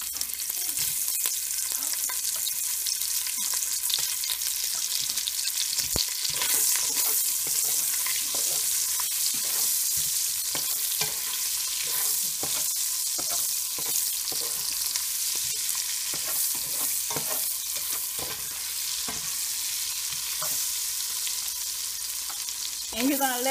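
Sausage fries in rendered bacon fat in a pot, a continuous bright sizzle with frequent clicks and scrapes of a spoon stirring, steady and close throughout with no talking.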